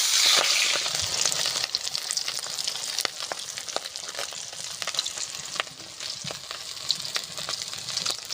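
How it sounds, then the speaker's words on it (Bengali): Rohu fish fries in oil with a steady, close sizzle and scattered sharp pops and spatters, no voices. "মাছগুলো সুন্দর করে ভাজা হয়ে গেছে আমি তুলে নেবো"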